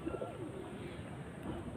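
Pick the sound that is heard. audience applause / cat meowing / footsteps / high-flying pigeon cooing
high-flying pigeon cooing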